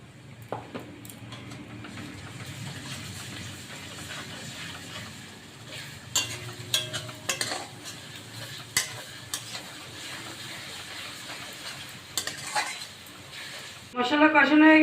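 Spices with garlic and ginger paste are stirred and fried in a pan for a chicken curry: soft sizzling runs throughout, broken by sharp clinks and scrapes of a utensil against the pan, and a voice speaks near the end.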